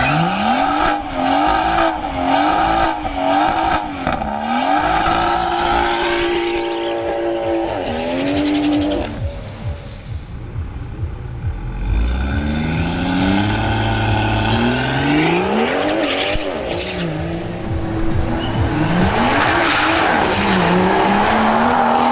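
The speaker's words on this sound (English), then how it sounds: "The next run is by Freddy Gonzalez in his BMW M140i." A BMW M140i launching on a drag strip, the engine revving hard with squealing tires and then climbing through gear changes, loud and close, with a second roaring pass near the end.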